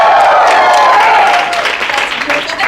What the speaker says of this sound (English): will you give me a cheer if you have seen us perform before here at Improv?